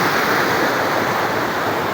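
Water pours down a waterfall along a river at Sitio Colacog, Barangay Cabadisan, Ragay, making a loud, steady broadband rush that stays close and continuous, with no voices.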